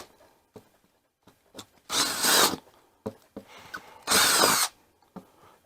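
A power drill bores into wooden wall framing while a control panel is being installed, with two loud, close bursts of whirring and grinding, each lasting about half a second, separated by light knocks and handling noises.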